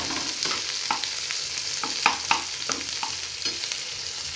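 Chopped onion and chili frying in a pan, a close, steady sizzle broken by repeated scraping strokes of a spatula stirring, with a couple of sharper knocks midway.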